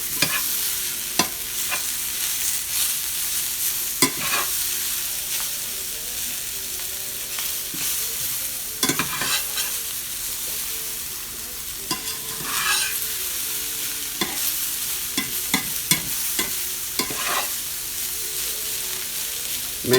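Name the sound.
stirring bacon, potatoes and green beans in pan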